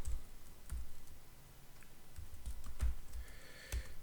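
Keys clacking on a computer keyboard, a scattered run of light, close-up taps with brief pauses, no speech.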